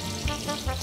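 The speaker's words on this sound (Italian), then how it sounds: "Cipolla da rosolare con olio extravergine del territorio. Aggiungiamo il guanciale." Onion and guanciale frying in extra virgin olive oil make a steady close sizzle and crackle in a pan, with no voices.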